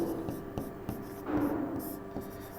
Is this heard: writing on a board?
yes